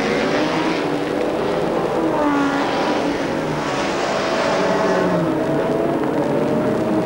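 Racing motorcycles scream through the dipper at Bathurst during the 1993 Australian TT, with a steady, loud engine roar and shifting revs that carry without a break.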